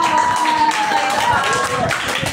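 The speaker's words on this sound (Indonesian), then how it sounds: "Kasih tepuk tangan dong." Steady applause from a class, continuous patter of many hands clapping at once for a couple of seconds.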